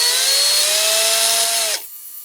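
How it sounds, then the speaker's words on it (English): An electric drill spins a Corgi Renault Floride model car axle and wheel held in its chuck while it is polished with Autosol, giving a loud steady whine that cuts off abruptly near the end and leaves a faint winding-down hum. "here I'm polishing up the wheels. Got the axle and one wheel in the drill chuck"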